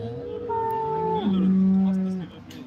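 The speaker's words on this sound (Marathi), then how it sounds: "एक चांगली गाय आहे" An HF (Holstein Friesian) dairy cow at the Loni cattle market gives one long, loud, nearby moo that drops in pitch halfway through.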